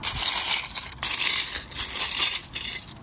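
Hands rifle through a box of classic Space Lego pieces, producing a close, continuous clatter and scraping of loose plastic bricks in bursts, with no talking.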